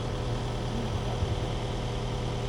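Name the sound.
tractor engine running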